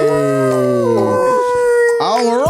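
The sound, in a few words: dog howling sound effect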